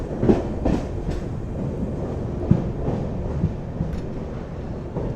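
The Island Express, running between Kanniyakumari and Bengaluru, rumbles past close by with a continuous low roar and rhythmic clickety-clack of wheels over rail joints, plus some wind buffeting.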